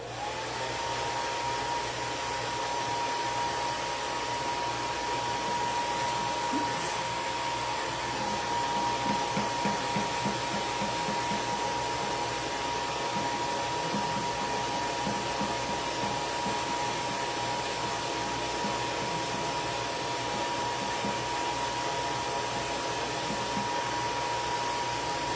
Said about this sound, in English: now I'm just going to take the dryer to it for a quick second